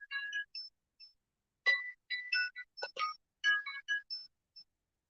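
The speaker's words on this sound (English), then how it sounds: "My phone is ringing." A mobile phone ringtone plays as a bright, melodic sequence of electronic chirping notes in short bursts with gaps between them, clear and isolated against silence.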